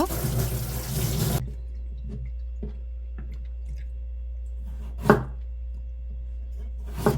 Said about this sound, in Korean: 당근도 하나만 채 썰을 거예요